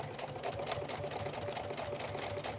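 Sewing machine sewing a regular straight stitch through vinyl fabric for cosplay, with a continuous close whirring motor and rapid needle chatter held steady throughout.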